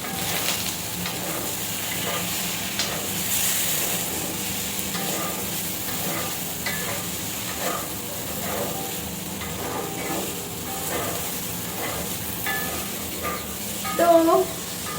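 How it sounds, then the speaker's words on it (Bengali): Squeezed soaked soya chunks and potatoes frying together in a pan, giving a low continuous hiss and sizzle with occasional faint stirring and a brief clatter near the end. "এখন সয়াবিনগুলো আমি চিবড়ে রেখেছিলাম, তো সেটাও এখন ভেজে নেব ভালোভাবে।"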